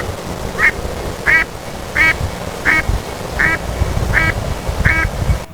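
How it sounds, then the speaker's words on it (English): A duck quacks seven times in a steady rhythm, short nasal calls roughly evenly spaced over a constant low background rumble. "Duck."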